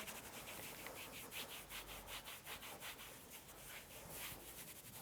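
A hand rubs repeatedly over kinesiology tape stuck to shoulder skin, a soft steady brushing friction in quick back-and-forth strokes, quiet and close throughout.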